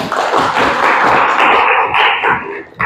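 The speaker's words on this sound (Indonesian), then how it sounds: "Tepuk tangan." A classroom of students claps loudly and close, a dense burst of many hands sustained for nearly three seconds before breaking off.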